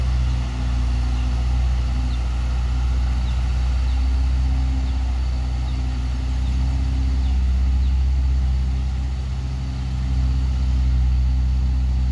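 A truck loaded with oil palm seedlings idles with a steady, low engine rumble. The sound is continuous and fairly close, and no voices come through over it.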